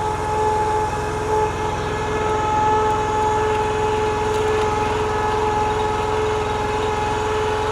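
A Honda iGX800 engine powering a 42-ton XDI extreme-duty industrial wood splitter runs steadily at close range, a loud, even drone with a constant pitch that holds throughout, with no talk over it.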